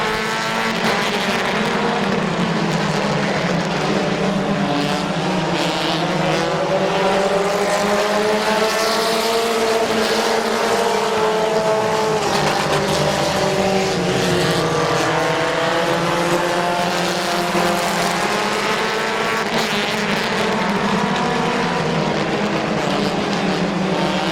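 Race cars roar around the oval at Midvale Speedway, a steady, loud engine drone that rises and falls as the pack passes, with no talk over it.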